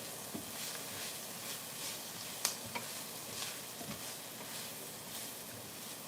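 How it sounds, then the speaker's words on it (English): Beef and egg noodles being stirred in a pan, with soft scraping and faint sizzling over a steady hiss, a few light utensil clicks near the middle. "we will give this a nice stir over here"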